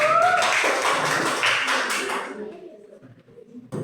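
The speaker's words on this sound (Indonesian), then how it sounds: "Oke, tepuk tangan untuk" A classroom of students claps for a group presentation, a brief, loud patter of hands that thins out and fades to near quiet after a couple of seconds.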